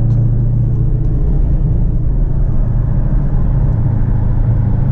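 Dodge Hellcat with a manual gearbox and Dynomax muffler delete, its engine holding a steady, deep, loud exhaust rumble close by for the whole stretch, without revving spikes.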